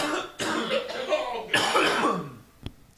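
Several rough coughs and throat-clearing bursts close by, in quick succession, with a final short sharp cough.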